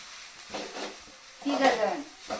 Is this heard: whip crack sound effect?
no